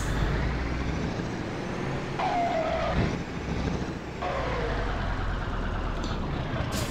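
A game truck from Grand Truck Simulator 2 drives off with a steady, loud, broadband engine rumble, a couple of brief hissing air-brake-like sweeps over it, continuous and alone without talk.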